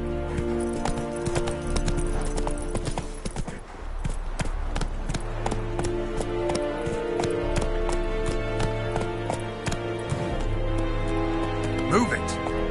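Roach the horse gallops in The Witcher 3, steady rapid clip-clop hoofbeats running continuously and close, with a voice speaking over the rhythm.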